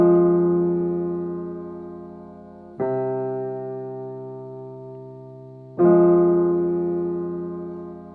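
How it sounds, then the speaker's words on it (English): Three sustained synthetic chords for a melodic beat, each built only from the thirds of the chords, ring out one after another and fade slowly. The tone is smooth, clean and isolated, with no talking. "I just left the thirds. So this is how they sound on their own."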